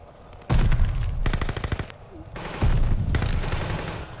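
Gunfire in Call of Duty: Vanguard with a Marco 5 submachine gun setup: loud close bursts of rapid automatic shots in three bursts separated by brief pauses.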